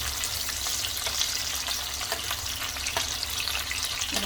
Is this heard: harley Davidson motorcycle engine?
no